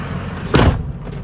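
A 6.0 diesel truck, a Ford Lariat, idles with a low rumble under a single solid thud of its door shutting, after which the engine sound inside drops quieter.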